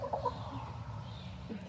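Backyard chickens, including a barred rock hen, cluck softly in a coop, giving a few short clucks and low murmurs at close range in a quiet setting.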